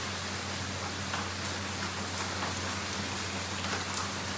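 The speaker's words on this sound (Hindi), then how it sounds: "और कितनी तेज़ बारिश हो रही है सुबह में।" Heavy early-morning rain falls steadily and close by, a dense continuous hiss of drops on surfaces with a low steady hum beneath, no voices.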